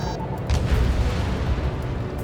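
A destroyed target explodes in the combat flight game Ace Combat 7, a deep rumbling boom that swells after a brief crack and rolls on heavily over the jet's steady background roar.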